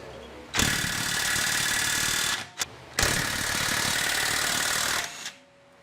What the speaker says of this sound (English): this impact wrench has been incredibly good